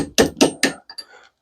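A small hammer tapping copper scrap, three sharp metallic strikes in even rhythm followed by two lighter ringing taps, close and loud with no talking.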